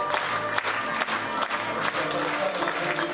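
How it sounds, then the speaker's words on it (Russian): A theatre audience gives a standing ovation to a Yakut drama troupe after a performance in Kazan, with dense, steady applause from a large crowd and occasional louder claps. "зритель все так же стоя и с аплодисментами провожает со сцены якутских театралов"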